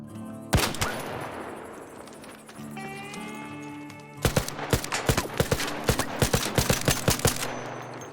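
Gunfire in the shooter video game ARC Raiders, a loud sharp shot followed by a pause, then a rapid burst of cracking shots fired in quick succession, close and dominant.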